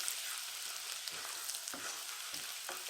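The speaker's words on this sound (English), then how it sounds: "add about 2 teaspoons of the shallots and leave it to saute" Shallots sauteing in a pan over reduced heat, giving a steady, close frying sizzle with faint stirring scrapes, no voices.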